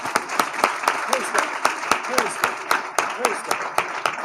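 An audience applauds at a Mother's Day sermon: scattered, sharp claps ring out at an uneven pace while a voice speaks over them, the clapping moderate and close.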